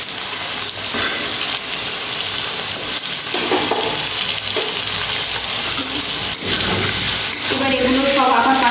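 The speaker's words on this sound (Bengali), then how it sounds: "এবার এগুলো সব আবার 5 মিনিট মতো কষাবো" Chicken with tomato and large onion pieces sautéing in a pan for chicken do pyaza, a loud continuous sizzle with stirring scrapes throughout, while a voice talks over it.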